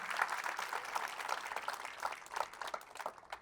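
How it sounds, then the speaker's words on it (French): Church congregation clapping for a ministry team, a brief moderate burst of applause with rhythmic hand claps, somewhat distant. "un aplauso para el equipo Nueva Vida."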